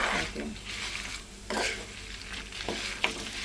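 Sliced bitter gourd sizzles softly in a pan during home cooking, with a few sharp scrapes of a spatula stirring through the steady low frying hiss.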